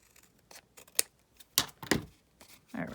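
Scissors trimming paper scraps, with a few sharp, close snips spaced irregularly, then a softer rustle at the end.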